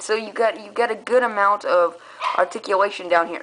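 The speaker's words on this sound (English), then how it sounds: "Sorry, that was my dog. He won't shut up." A dog barks and yips in several sharp bursts close by, overlapping someone talking about an action figure.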